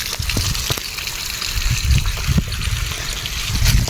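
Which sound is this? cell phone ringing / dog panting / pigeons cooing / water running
water running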